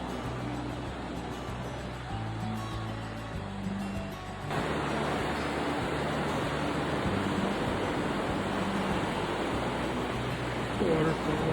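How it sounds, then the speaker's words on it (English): A waterfall spilling onto a beach near Short Sands on the Oregon coast gives a steady, dense rush of water that grows fuller and louder partway through, with surf blending in and brief speech underneath. "Waterfall on the beach."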